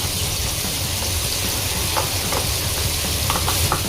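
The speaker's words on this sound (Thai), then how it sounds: "ผมจะเอาเห็ดหอมที่เราเตรียมไว้ไปผัดด้วยนะครับ ลงไปเลย" Shiitake mushrooms stir-fry with minced pork in oil, making a steady close sizzle with a low rumbling texture and a few light scrapes and clicks from stirring, with no voices.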